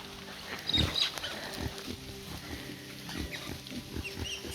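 Pigs grunt in a cluster of short, low snorts and squeals on a flooded homestead, fairly close and continuous, with some splashing and farmyard noise mixed in.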